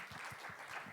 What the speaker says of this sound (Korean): 우리 박수를 한번 쳐볼까요?